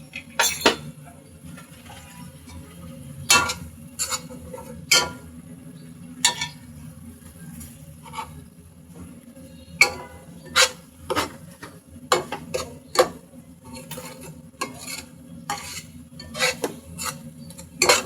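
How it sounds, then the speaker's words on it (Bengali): Spices with turmeric and salt frying in a pan, stirred with a metal spoon that scrapes and clinks in sharp irregular strokes over a low steady sizzle, close up and without speech. "আমি এখন মশলাটাকে সুন্দর করে ভেজে নিচ্ছি।"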